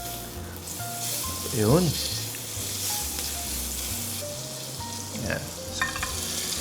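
Butter sizzling and frying on a hot sizzling plate for a tofu dish, a steady hissing crackle throughout, loud and close, with a person speaking briefly over it.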